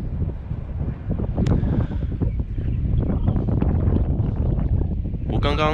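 Strong wind buffets the microphone at a coastal wind farm with large turbines, a loud, steady roaring rush with gusty swells throughout.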